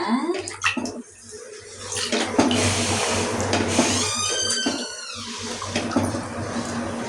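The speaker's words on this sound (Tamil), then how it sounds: "தண்ணி தேவையான அளவு ஊற்றிட்டாங்க. நல்லா கொதிக்குது." Water pours and splashes continuously into a cooking pot of chicken biryani, then boils, with a bubbling, gurgling rush that swells and fades, close by.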